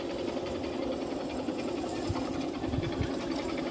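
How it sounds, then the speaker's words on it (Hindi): A Honda Shine motorcycle engine, freshly rebuilt, idles at about 1,000 RPM with a steady, rapid mechanical chug and rattle, close and constant with no talking. "आज मैं आपको इसका साउंड सुना देता हूँ, इंजन का साउंड कैसा निकला है"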